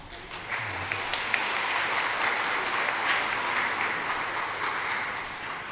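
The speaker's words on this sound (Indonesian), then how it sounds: "Tepuk tangan untuk mereka itu." A church congregation at a Sunday Mass for the Feast of the Holy Family claps for the liturgy helpers and choir, a full, even roar of applause that swells quickly and stays steady throughout.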